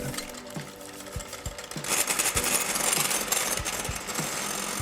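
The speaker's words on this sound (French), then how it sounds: "on va battre les blancs en neige avec une pincée de sel." Electric mixer whipping egg whites with a pinch of salt into stiff peaks, a steady buzzing whir with rhythmic clicks of the beaters against the bowl, growing slightly louder midway.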